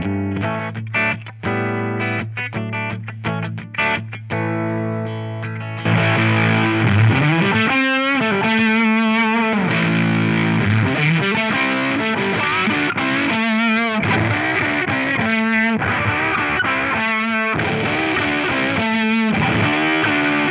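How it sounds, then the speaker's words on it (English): Electric guitar through a Fuzz Face fuzz into a Boss OD-3 overdrive pedal, played loud and close: clipped, staccato chords first, then sustained distorted chords and bending lead lines with a thick, gritty fuzz tone. "the analog OD3 seems to be doing a fine job at lightly colouring the fuzz face in the way I'd expect"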